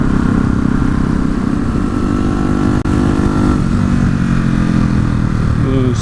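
Motorcycle engine pulling hard through fourth gear, a loud steady drone with a brief dip partway through before it keeps building speed, heard close and alone.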